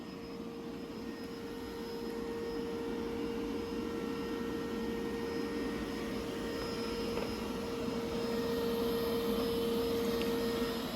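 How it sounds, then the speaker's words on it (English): A Dreame L60 Pro Ultra robot vacuum running at maximum suction gives a steady, moderate whir with a faint high tonal whine, unbroken and fairly even for the whole stretch with no voices. "Here's an illustration of the Dreame L60 Pro Ultra on maximum suction power so you can get a feeling for how loud it is"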